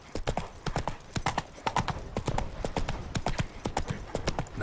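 Hooves of Roach, the horse in The Witcher 3 (Blood and Wine), clip-clop in a quick, even galloping rhythm, loud and close, with no talk over them.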